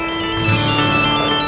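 A mobile phone ringtone plays loudly and steadily for a moment with a bright, sustained melodic tone and no talk over it.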